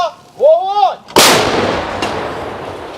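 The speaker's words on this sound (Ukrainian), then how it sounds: "Зараз ми працюємо з гармати БС-3" A voice shouts briefly, then a BS-3 field gun fires with a sharp, very loud boom that rolls away into a long fading echo.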